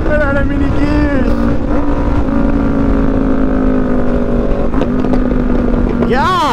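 Loud Yamaha R1 sport bike riding close by, its engine droning steadily with rising and falling revs and wind buffeting the microphone, while people talk.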